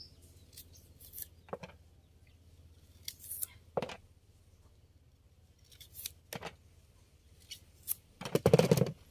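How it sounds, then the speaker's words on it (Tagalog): Sugar cane being peeled outdoors gives sharp, scraping strips in scattered bursts, with a longer rasping pull at the end over a quiet background. "Ito na magbalat, oh. Sugar cane."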